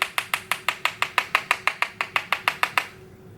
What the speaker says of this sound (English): I'll go in the jar and then tap off the excess in the lid